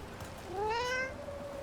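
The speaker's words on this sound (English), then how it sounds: "You can pet the cat!" A cat in Dragon Age: The Veilguard lets out a single clear, rising-then-falling meow as it is petted, close and fairly loud over quiet game ambience.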